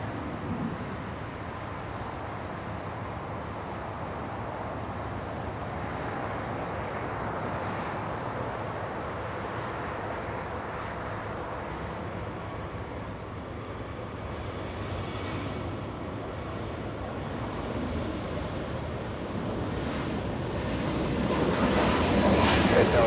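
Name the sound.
Delta 464 jet throttling up for a rolling takeoff at LAX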